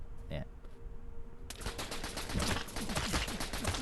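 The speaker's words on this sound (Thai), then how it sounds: "แล้วก็ มันก็จะยิงของมันแบบออโต้เองนะครับ" Rapid automatic gunfire from the mobile survival shooter Dead Stand starts after a brief lead-in and continues as a dense, steady burst of shots for the rest of the stretch.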